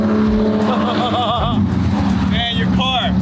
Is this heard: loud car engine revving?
yes